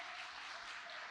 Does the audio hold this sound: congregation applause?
yes